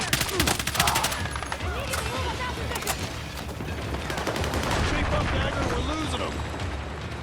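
Dense gunfire in the Battlefield 6 campaign, with continuous bursts of automatic weapons and sharp shots layered over heavy booming, loud and sustained throughout, with shouted voices mixed into the chaos.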